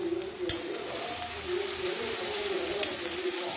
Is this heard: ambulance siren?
no